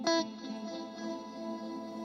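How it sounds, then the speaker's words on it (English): An electric guitar note or chord rings out through an effects chain, a bright attack followed by a washy reverb tail that lingers and slowly swells and fades, with no talking. "Let's like mix in the reverb."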